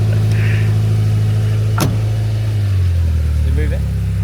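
Car engine running steadily after a new clutch installation, a loud low hum that shifts pitch partway through, with a sharp brief noise midway and people talking over it.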